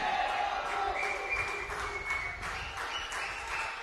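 Distant crowd cheering and applause from a cricket dressing room during a Tier-B T20 club match between Leo CC and Moratuwa SC, a steady broad wash of noise with no talk over it.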